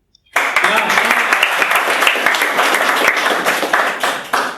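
Audience applause at a Hindi poetry open mic: a sudden, loud burst of many hands clapping that holds steady for about four seconds, then thins slightly, with no voices over it.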